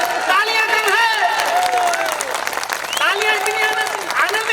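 Audience applause at a Hindi comedy poetry gathering, a dense, loud and sustained round of clapping from a large crowd, with voices rising over it and cheering mixed in.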